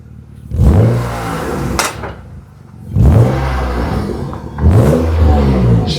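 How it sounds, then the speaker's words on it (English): BMW M Roadster with a new Turner exhaust starting up and revving in three loud bursts, each throaty rise settling into a deep rumbling idle between blips, heard close without talk. "First startup with the new Turner exhaust on the M Roadster."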